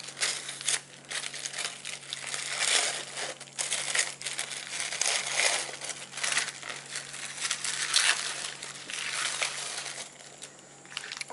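Tissue paper wrapped around penpal mail from Singapore crinkles and rustles in a continuous, close, fairly quiet crumpling as it is unwrapped, with no speech.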